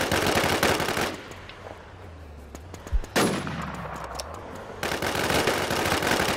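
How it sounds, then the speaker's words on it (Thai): In the video game Infestation, a machine gun vehicle fires rapid, loud bursts at the start and again at the end, with a quieter stretch in between that holds a single sharp bang and an engine-like hum. "ยิงมันเลยรถปืนกล"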